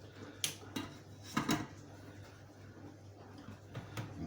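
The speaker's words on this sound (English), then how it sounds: "Put on the glass lid" A glass lid is set onto a thermal cooker pot holding boiling saffron chicken, giving a few quiet clinks and knocks spread over a few seconds in a calm kitchen.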